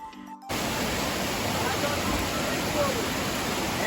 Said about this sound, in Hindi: तो जहाँ पे झरना ये शुरू हो रहा है।